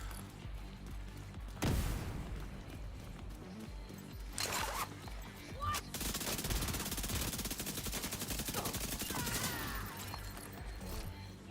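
Submachine-gun fire in The Division 2 during a heroic PVE mission, with rapid automatic bursts, a long sustained string of shots and sharp impacts over game ambience, fairly quiet overall.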